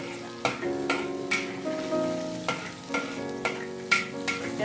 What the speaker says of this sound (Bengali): আমরা ক্যাপসিকাম আর পেঁয়াজের ফালিগুলো দিয়ে দিচ্ছি